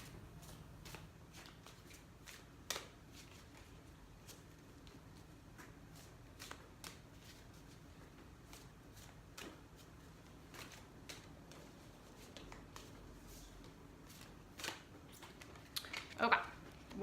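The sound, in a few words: shuffling cards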